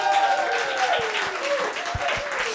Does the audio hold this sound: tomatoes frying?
no